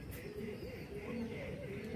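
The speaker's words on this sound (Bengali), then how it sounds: "এটা একটা পায়রা, এটা নর পায়রা না?" A male Madrasi high-flying pigeon in a loft gives soft, low, wavering coos over a steady background hum.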